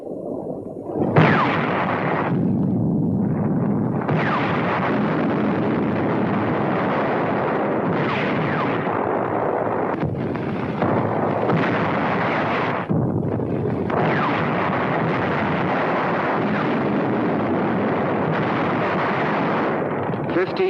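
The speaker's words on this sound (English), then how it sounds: "November the 25th, the first real tank clash." Tank battle explosions and gunfire from a 1944 wartime documentary on the Tunisian campaign in North Africa. A loud, sustained roaring rumble with repeated heavy bursts runs throughout.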